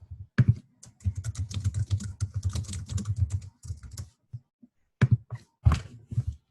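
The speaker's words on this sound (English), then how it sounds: "Somebody's typing." Someone types on a computer keyboard during an online webinar, rapid clattering keystrokes in dense bursts with short pauses, near and clear, with no speech over it.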